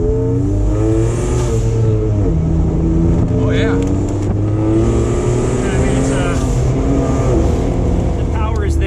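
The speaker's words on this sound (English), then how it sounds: "let us hear some turbo spool, some blow off" A loud turbocharged Jeep Wrangler engine revs and builds with a rising turbo whine, wind buffeting throughout with the top off and doors open, and someone briefly speaks over it.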